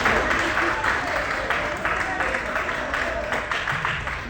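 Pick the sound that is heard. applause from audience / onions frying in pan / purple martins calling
applause from audience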